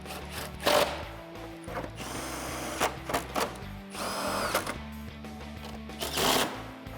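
Power driver fastening long bolts that join the headlight and grille on a RAM 1500 pickup, short whirring bursts with mechanical clatter up close, interrupted by brief pauses.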